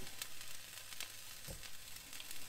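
Pieces of tomato fry in a hot pan, giving a steady, soft sizzle and crackle with a few faint scrapes of stirring, close and fairly quiet, with no voices.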